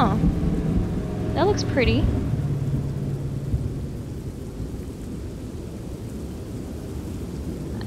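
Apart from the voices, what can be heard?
rain and thunder in video game The Train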